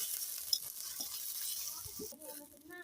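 Spiced potatoes and soybean chunks sizzle in a pan as a little water is added, giving a steady high hiss with soft stirring scrapes and a brief burst of spattering toward the end.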